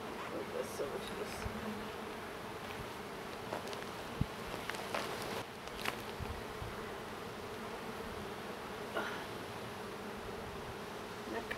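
Honey bees buzz steadily around an open hive during an inspection, a dense, continuous drone of many insects close by with occasional louder passes and small handling clicks.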